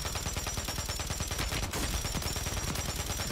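Rapid sustained automatic bursts from the Polymod LMG in Warzone, each shot a punchy low thump in a steady fast rhythm, loud and continuous with no pauses.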